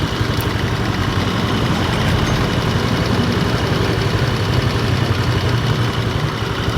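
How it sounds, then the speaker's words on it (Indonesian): A Suzuki Skywave scooter engine idles steadily up close, a loud continuous low throb with a fast even pulse and no talk, recorded during a workshop check for a no-spark fault. "Ini motor udah hidup."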